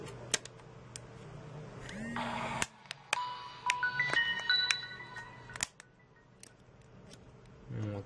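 A Samsung C3782 mobile phone being put back together, with plastic parts and its battery clicking and snapping into place in a series of sharp close taps, with faint handling noise in between.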